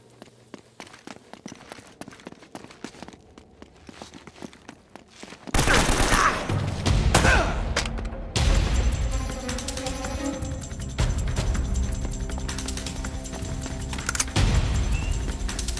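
Gunfire in Uncharted: Drake's Fortune, where quiet footsteps and ticking give way to loud, sustained shooting and impacts that continue to the end, with a distant shouted voice.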